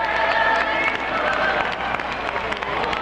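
Sustained applause and cheering from a large crowd of about 20,000 in a convention hall on election night 1976, welcoming Jimmy Carter's arrival; a dense, steady roar of clapping with voices mixed in throughout.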